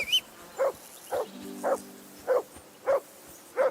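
A dog barks in Kingdom Come Deliverance 2, giving seven evenly spaced, close, loud woofs at a steady rhythm, with a faint low hum underneath in the middle.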